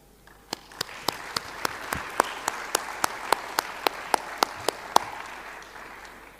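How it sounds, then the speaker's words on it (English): Clapping at an international conference in Yerevan, with sharp, evenly spaced claps sounding close and distinct over a softer, sparse spread of applause from the room. "I want us to applaud them."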